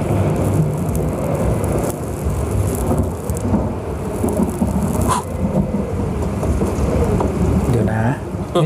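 Steady heavy rain pours over a constant dense wash of sound, with a low rumble like thunder beneath it and faint voices mixed in.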